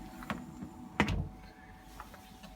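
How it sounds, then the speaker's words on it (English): A door swings shut with one dull thump, followed by a softer knock and a low background hum, heard alone without speech. "The door's being shut."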